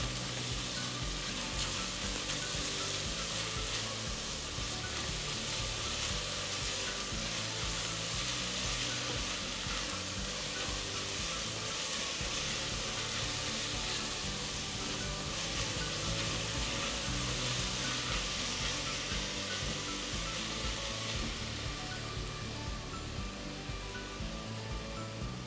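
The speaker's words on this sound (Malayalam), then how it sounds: "ഇഞ്ചിയും വെളുത്തുള്ളിയും ചതച്ച് വെച്ചിരിക്കുന്നത് കൂടി നമുക്ക് ഇട്ട് കൊടുക്കാം. കറിവേപ്പിലയും. ഇനി ഇത് നന്നായിട്ട് വഴന്ന് വരണം." Crushed ginger, garlic and curry leaves sauté in a hot pan of oil for a Syrian Christian Kerala dish, giving a steady, dense sizzle and crackle that runs unbroken and fairly close throughout, with no voices.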